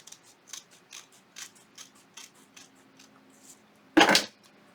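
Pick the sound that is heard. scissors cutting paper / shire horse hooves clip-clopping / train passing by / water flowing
scissors cutting paper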